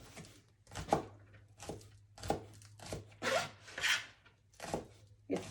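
A knife chops two bunches of green onions into fine pieces for salsa, about eight crisp, scraping cuts in an uneven rhythm, close and moderately loud, with a low steady hum underneath.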